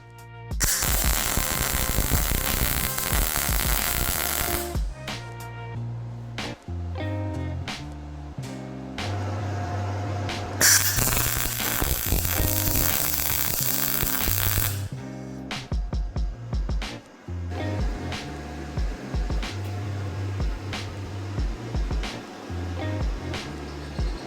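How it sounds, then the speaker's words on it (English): MIG-style welding of bolt studs onto a custom mini-truck grill: long steady crackling, hissing arc bursts separated by short pauses, close and loud with no talking. "then I'm just going to weld it"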